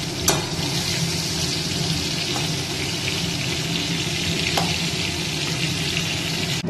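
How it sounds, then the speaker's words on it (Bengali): Prawns fry in a pan with a steady, loud, close sizzle, and a couple of brief clicks or taps stand out over the constant hiss, with no voices. "এটা চিংড়ি মাছ ভাজা হচ্ছে।"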